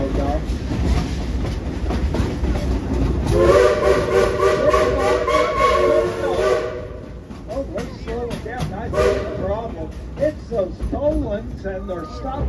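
A loud, sustained train whistle blows for a few seconds amid rumbling rail noise and hissing steam, with people talking throughout.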